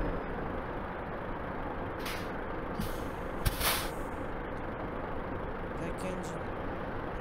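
Parked truck's air brake system letting out hissing bursts of air, a couple of brief broadband releases around the middle over steady engine idle, with someone talking nearby.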